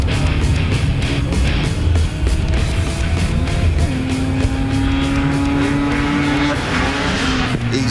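A Mazda RX-3 with a 13B rotary engine races past, a loud, buzzing, high-revving rotary wail over crowd and track noise, with tire squeal and other cars passing nearby.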